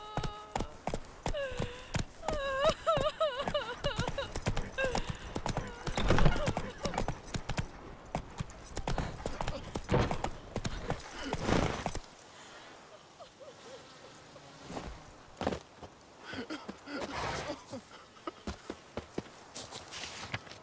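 Roach the horse's hooves clip-clop in steady rhythmic strikes in the Witcher 3 video game, close and clear, then fade into quieter, scattered steps over ambient game sound.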